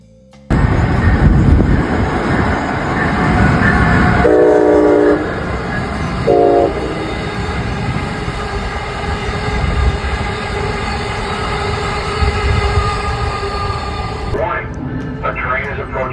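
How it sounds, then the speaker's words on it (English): An Amtrak train rumbles past a station crossing with clattering wheels, two short horn blasts and a ringing crossing bell, while a recorded voice announces that a train is approaching the crossing. "A train is approaching the crossing."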